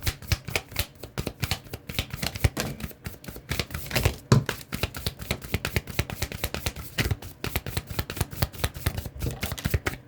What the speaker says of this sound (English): bottom of the deck after shuffling, we have Archangel Michael